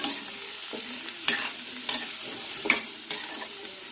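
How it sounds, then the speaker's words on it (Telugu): Beetroot pieces stirred as they fry in a pan with ginger, giving a steady sizzle broken by several sharp spoon scrapes at irregular intervals, close and moderately loud with no talking. "బీట్రూట్ ముక్కలన్నీ వేసి మెల్లగా కలుపుతూ ఉండాలి."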